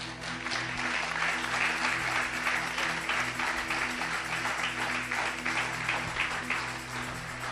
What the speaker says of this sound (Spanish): Respalden a sus pastores en que saquen un aplauso.